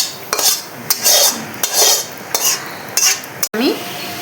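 Steamed drumstick flowers are tipped into a pan in a home kitchen, with repeated metallic scrapes and clinks of a utensil against the cookware and bursts of soft hissing and rustling, fairly close and loud.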